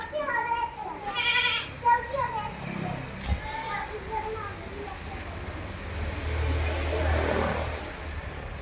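Young goat kids bleating at a livestock sale in Manjeri, including a six-month-old Beetal-cross buck kid, with several short wavering calls in the first half over steady outdoor background noise and people talking.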